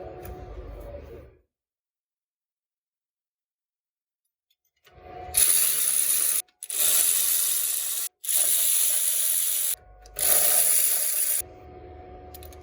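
A wrench undoes the 19 mm nuts on a Hamilton 212 pump during an impeller change, giving four loud, close bursts of rapid ratcheting clicks separated by short pauses after a quiet lead-in.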